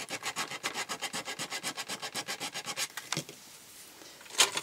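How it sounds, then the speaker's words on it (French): Hand sanding of a small protruding wooden part on a spice shelf with drawers, quick rhythmic back-and-forth rasping strokes close up for about three seconds, then quieter light scraping. "Je vais poncer la petite partie qui dépasse là"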